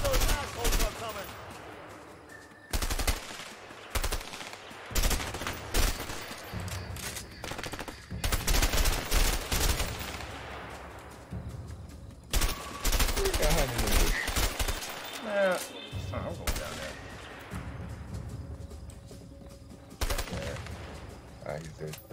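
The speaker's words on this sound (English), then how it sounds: "So if that's the case, then we may as well just fire from here." Rapid bursts of gunfire from a shootout in the video game A Way Out, loud volleys of shots and automatic fire repeating throughout with short gaps, players talking over the action.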